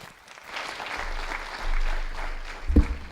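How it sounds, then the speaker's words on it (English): A conference audience applauds a plenary speaker, a soft, distant wash of clapping that swells and fades across a large hall, ending with a brief low thump. "A big round of applause for Ramesh"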